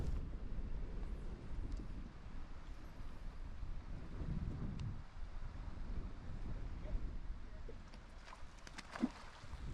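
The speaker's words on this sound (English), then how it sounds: "The wind is picking up" Wind gusting and buffeting the microphone beside the Kanektok River in Alaska, a steady low rumble with a stronger surge midway and faint clicks near the end.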